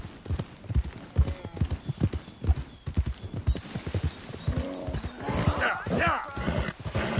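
Horse hooves in Red Dead 2 clip-clop in a steady walking rhythm, close and clear, followed by a horse's whinny near the end with some background game sounds.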